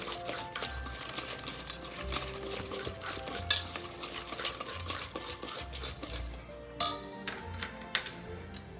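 A spoon stirs Jamaican sweet potato pudding batter in a bowl, making repeated wet scraping strokes with soft clinks against the bowl, close and continuous.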